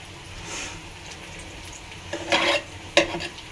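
Chepa shutki curry cooking on a gas stove, with a soft sizzle and two short bursts of stirring or scraping in the pan near the end.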